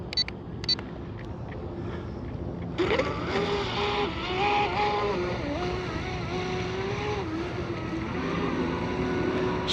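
A Seaducer SD3 FE-30 mono-hull RC boat, tested on 4S and 6S power, runs on the water. The electric motor whines, rising and shifting in pitch as it speeds up, and clicks sound near the start.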